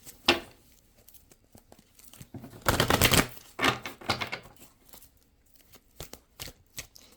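Oracle cards being shuffled, a run of papery riffles and dry flutters with the densest burst near the middle and a few quick flicks toward the end, close and moderately quiet, without voices.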